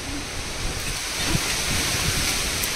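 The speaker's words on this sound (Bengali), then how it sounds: "শুনতে পাচ্ছ আওয়াজ হাওয়ার?" Strong wind from a Kalbaisakhi storm roars outdoors at night, a loud steady broadband rush with low buffeting gusts, continuous and close to the microphone.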